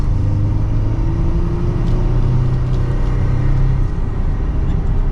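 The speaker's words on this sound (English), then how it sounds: "And with another acceleration, here we go." A 2022 Chevrolet Colorado Z71 truck accelerates from inside the cab, its engine a loud, steady low rumble with a rising tone that then levels off under road noise, with no talking.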